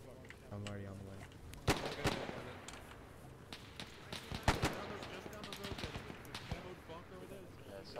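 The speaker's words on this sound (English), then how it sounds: "shots left from across the way" Scattered gunfire from across the way rings out in an ARMA 3 Faces of War WW2 mod battle set in 1945 Germany, with sharp distant shots and short irregular bursts over a faint battlefield hum.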